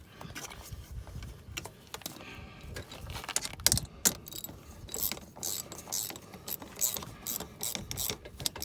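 A ratchet clicks in quick, uneven bursts while tightening a clamp on the boost pipe of a 1.9 diesel turbo Fiat Grande Punto, close and crisp with short pauses.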